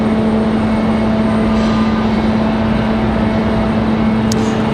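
A Spirit Airlines airplane arriving at Raleigh Durham airport produces a steady, continuous jet roar with a constant tonal hum, moderately loud and unbroken.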